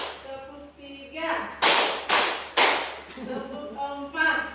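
Group of people clapping in unison in a patterned sequence, three sharp loud claps in even rhythm between spoken instructions from a leader's voice.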